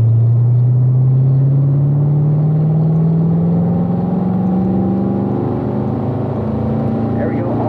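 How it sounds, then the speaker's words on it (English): A race car on a wet, rainy track session accelerating hard, its engine note climbing in a long steady sweep of rising pitch, loud and close, with a continuous road and rain rumble underneath. "let's squeeze in the power here, Doug."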